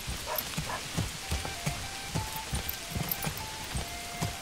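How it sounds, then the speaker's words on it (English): Rain falls steadily in the medieval city-building video game Manor Lords, a continuous hiss broken by regular soft thuds and patters. "I can't believe how much rain there is right now."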